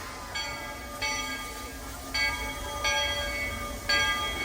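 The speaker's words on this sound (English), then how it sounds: "Perfect timing with the train. The train is back open too." A steady rumbling Magic Kingdom railroad train runs continuously, with bell-like ringing tones that return every second or so over the noise.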